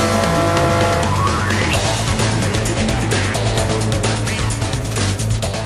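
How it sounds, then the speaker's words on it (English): A Tidd Needle race car braking late into a corner on a slippery track, its engine loud and close as it shifts down, with a tire squeal and steady roaring revs throughout. "once Tom had got a feel for the grip, he soon started moving up the field with some well-judged late braking."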